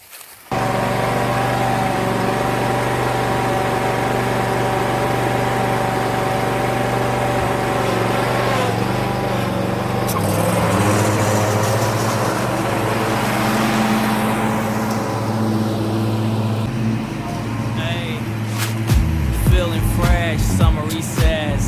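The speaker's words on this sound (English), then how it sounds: "All right, I'm gonna start mowing." A lawn mower runs steadily at a loud, constant engine drone during residential yard mowing, its pitch shifting slightly as it moves, with a few clatters near the end.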